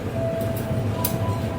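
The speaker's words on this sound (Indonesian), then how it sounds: "Kereta api Senja Utama Yogyakarta dari stasiun Yogyakarta menuju ke arah Pasar Senen. Masuk di jalur 2 stasiun Kutoarjo." Senja Utama Yogyakarta passenger train pulling into track 2 at Kutoarjo station, Indonesia, a steady close rumble of rolling wagons with a faint high tonal squeal and light metallic clinks throughout.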